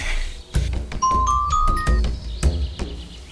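A mobile phone rings with an incoming call, playing a bright chiming ringtone of repeated ding-dong tones at close range over a low background rumble, with no talking.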